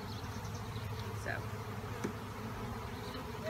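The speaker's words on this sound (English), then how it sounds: "There's white bees flying around everywhere." Honey bees from a Langstroth hive swarm after a powdered sugar roll, giving a steady, dense buzzing with individual bees droning past nearby.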